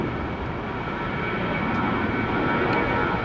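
A United Boeing 737 MAX jet at Tampa International Airport gives off a steady broad engine roar, loud and continuous, heard at a distance through rain with no talking.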